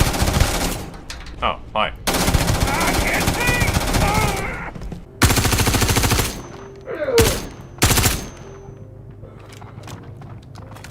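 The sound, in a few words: gunfire in video game Star Citizen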